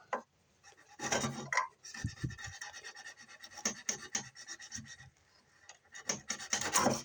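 A small knife scrapes and cuts near a wooden shelf in short, irregular bursts of close rasping and scratching, some strokes louder than others, with brief pauses between them.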